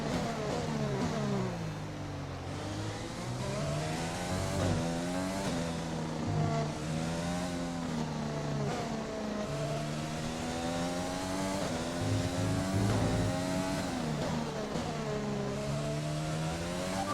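An underperforming F1 power unit in the F1 2020 racing game at the Spanish Grand Prix, a steady loud engine whine rising and falling through gear changes for the whole stretch, with no voices.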